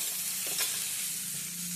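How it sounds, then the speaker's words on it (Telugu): Onions and green chillies fry in hot oil in a pan while cooking gongura curry, making a steady close sizzle with a brief stirring scrape partway through. "ఇది బాగా బ్రౌన్ కలర్ వచ్చే వరకు ఫ్రై చేయాలండి"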